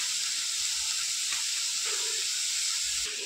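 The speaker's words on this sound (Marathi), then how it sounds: "आता बघा सोयाबीन असं मस्त फ्राय झालेला आहे।" Soya chunks frying in a pan with red chilli powder, a steady faint sizzle and hiss close by, with a few soft stirring taps and no voices.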